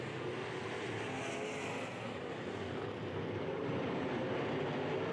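IMCA modified race cars roar around the dirt oval at RPM Speedway, a dense, continuous engine drone of several cars racing together, loud and steady without voices.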